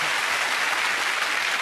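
Studio audience applause on a 1994 Christmas special of the snooker game show Big Break, a loud, dense burst of clapping sustained evenly throughout without talk.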